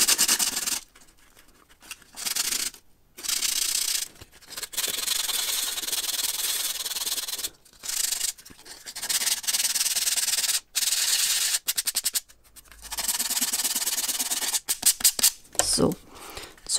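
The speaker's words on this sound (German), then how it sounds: "da das unten jetzt nicht ganz so hübsch aussieht, schleife ich das einmal glatt" Sandpaper rubbed against the bottom of a handmade decorative tree of designer paper and wood, giving loud, close, rasping strokes in repeated bursts separated by brief pauses.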